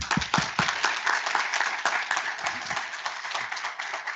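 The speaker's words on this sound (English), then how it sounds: "So one more round of applause." Audience applause at a conference opening session, a continuous patter of clapping from a moderate crowd, fairly close and even, with no talk over it.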